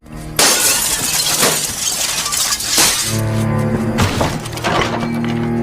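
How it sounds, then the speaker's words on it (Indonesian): A crowbar smashes a door and window glass, loud repeated shattering crashes with heavy thuds and tinkling shards scattering over several seconds. "merusak pintu dan kaca jendela menggunakan linggis"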